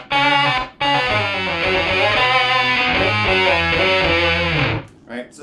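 An electric guitar runs through a Micro Synth pedal for its core synth tone, a thick buzzy, filtered sound playing chords in a steady riff, loud and close, briefly cut off near the start and ending with a short tail.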